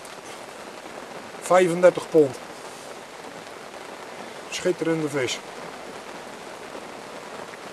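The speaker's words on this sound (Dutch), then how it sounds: "Het regent nog." Steady rain falls at night on a lake while fishing, a soft continuous hiss running throughout; someone speaks briefly twice over it.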